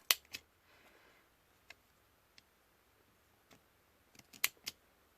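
Scissors cutting cotton wick for a Geekvape RDA, a few crisp, close snips spread out with near silence between them, then a quick cluster of sharp clicks toward the end.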